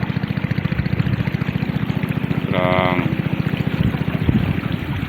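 A motorized fishing raft's engine chugs in a steady, close rhythmic pulse on a lake, with a brief higher tonal whine rising over it midway.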